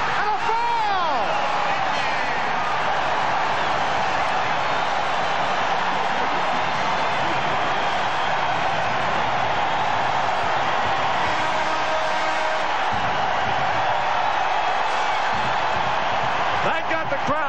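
A college basketball crowd at Penn State at Wisconsin in 1995 roars after a dunk, a loud, sustained wall of cheering with a commentator's voice talking over it.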